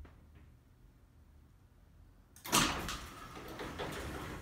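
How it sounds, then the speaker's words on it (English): A DIY smart garage door opener built with a Raspberry Pi starts up after a quiet pause, with a sudden loud mechanical clunk followed by a sustained rattling whir of the door moving, close by. "Open the garage door."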